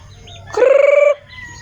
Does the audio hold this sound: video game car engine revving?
no